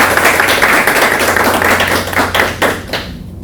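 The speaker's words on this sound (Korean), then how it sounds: "뜨거운 박수로 환영해 주시기 바랍니다" An audience at a Korean book concert gives a warm welcome to a professor with dense, continuous applause from many hands, loud at first and then thinning and fading away toward the end.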